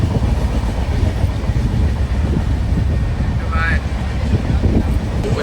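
A passenger train running on rails makes a loud, steady rumble and rolling rattle from inside the carriage that holds without pause. A brief higher squeal rises briefly partway through.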